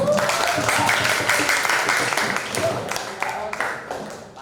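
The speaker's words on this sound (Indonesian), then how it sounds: "Kita beri tepuk tangan untuk kita semua." A classroom group applauds together, a dense clatter of many hands clapping at close range that gradually thins out, with some voices mixed in.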